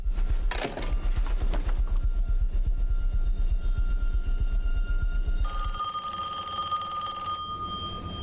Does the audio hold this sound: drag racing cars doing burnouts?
no